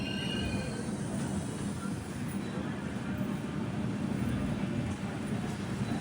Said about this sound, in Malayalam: ഇതിൻ്റെ മറ്റൊരു ഭാഗത്ത് വേറൊരു ട്രെയിൻ കൂടെ വന്നിട്ടുണ്ട്